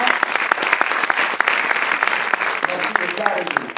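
Sustained applause from a film festival audience at Lumière 2021, many hands clapping in an even, continuous wash with sharper individual claps poking through, and a faint voice entering toward the end.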